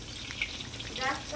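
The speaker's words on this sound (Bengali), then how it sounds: "হচ্ছে বেগুন ভাজা" Slices of eggplant (brinjal) frying in oil, a steady close sizzle with faint crackles throughout, no voices.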